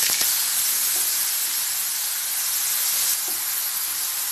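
Onions dropped into hot oil with fennel powder in a pan, a steady bright hiss and sizzle throughout with a faint tap near the start, no talking.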